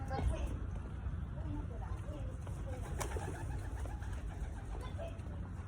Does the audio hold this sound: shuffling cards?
no